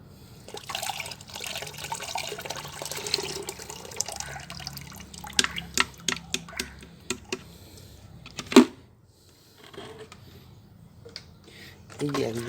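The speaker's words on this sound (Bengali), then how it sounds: "এবার আমরা করব এটা 1 লিটার জলের মধ্যে ছেঁকে নেব।" Fertilizer mixture made with tea leaves being strained into one litre of water for a hibiscus plant: trickling and pouring liquid at close range, followed by a series of sharp drips and clinks, with a voice talking over the early part.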